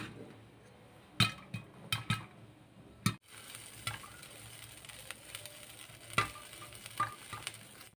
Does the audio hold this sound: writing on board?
no